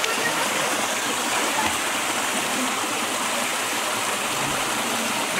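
Steady rushing water runs in a kitchen in the horror game Mystery of Slender Man 2, a dense, even hiss filling the whole stretch at fairly close range.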